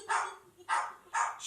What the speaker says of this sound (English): Shush that dog!